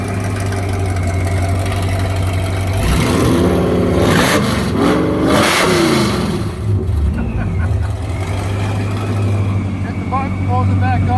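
A supercharged 1992 Lincoln Mark VII idles steadily, then revs hard several times in a row with rising and falling engine pitch, and settles back to a loud, close idle.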